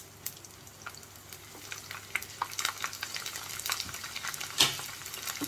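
Garlic dropped into hot oil already tempered with mustard seeds and asafoetida for a South Indian tomato pickle, giving a steady close sizzle with scattered crackles and pops, one sharper pop near the end, with no speech.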